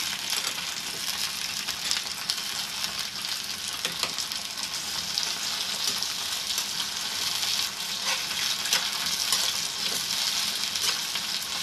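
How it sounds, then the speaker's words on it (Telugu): Gongura leaves fry in hot oil with a loud, steady, close sizzle that holds without a break, and no one speaks. "నూనెలో వేపేసుకోవాలి, బాగా వేపారు."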